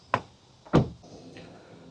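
The rear door of a Renault 5 is closed, giving a light click and then a solid, dense thud close by, with a faint rattle trailing after.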